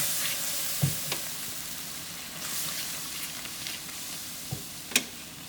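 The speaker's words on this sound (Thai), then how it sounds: "ก็คนๆให้เข้ากัน" Cooking cream for a spinach spread simmers in a pan with a soft, steady sizzle, while a spoon scrapes and knocks against the pan a few times.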